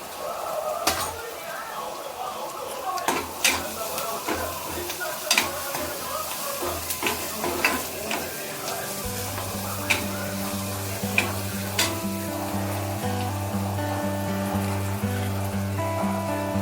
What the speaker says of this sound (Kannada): ಒಗ್ಗರಣೆ ರೆಡಿ ಆಗ್ತಿದೆ